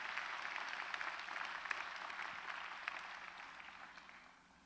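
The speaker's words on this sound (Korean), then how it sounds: "한번 박수로 영광을 돌리겠습니다" A church congregation applauds during a Sunday service, a soft, distant patter of many hands that holds steady, then fades away toward the end.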